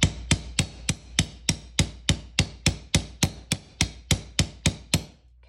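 A hammer strikes metal flat on a block, about sixteen sharp, evenly spaced blows at a steady rhythm, close and loud, with no talking.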